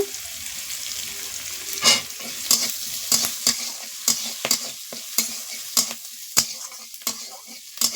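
Spices and greens frying in a pan while a spoon stirs them, giving a constant sizzle with a dozen sharp, regular scraping strokes, close up and alone.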